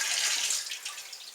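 Corn sugar priming solution poured into a bottling bucket for cranberry spice cider, a steady hissing splash of liquid that thins out and trickles toward the end.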